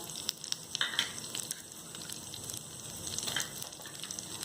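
Pistachios, cashews and almonds fry in a pan for sheer khurma, giving a faint, steady sizzle with light crackles and occasional stirring taps, with no talk.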